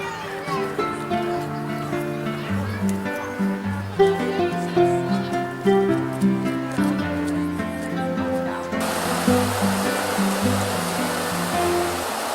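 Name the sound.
water flowing over a weir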